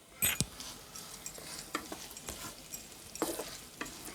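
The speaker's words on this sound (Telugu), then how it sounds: "ఆనియన్ మనకు గోల్డెన్ కలర్ వచ్చే వరకు వేయించుకోవాలండి" Chopped onion frying in a pan for bhindi (ladies finger) curry, a soft steady sizzle broken by a few sharp scrapes and clinks of a spatula stirring against the pan.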